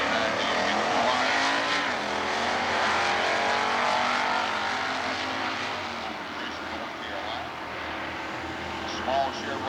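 Stock eliminator drag race cars, including a small Chevrolet and an Oldsmobile, roar down the strip at an NHRA division race in Atlanta, a loud sustained engine howl with shifting pitch, with an announcer talking over it.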